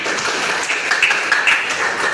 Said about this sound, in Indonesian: iya, tepuk tangan untuk kita semuanya